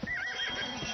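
A horse in the video game Red Dead Redemption neighs loudly and up close, a single wavering whinny with hoof clip-clops mixed in and no speech over it.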